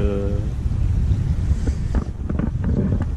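Wind blows steadily across a sailboat off the flat, unsheltered coast of Île de Ré, with a continuous roar and buffeting gusts close to the microphone and a voice talking over it.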